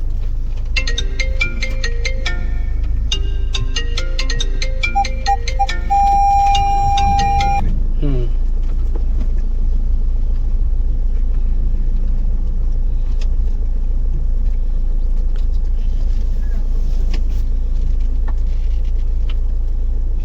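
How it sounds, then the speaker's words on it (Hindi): A car is being driven out of a home onto a narrow road, a steady low engine rumble running throughout, with a ringtone-like melody of bright electronic tones over it for the first several seconds. "तो अभी हम लोग बस घर से गाड़ी निकाल रहे हैं"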